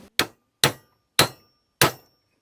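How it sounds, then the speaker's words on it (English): Four sharp, ringing hammer blows on a driveshaft, evenly spaced about half a second apart, close by with quick decays. "I'm just gonna whack it with a hammer"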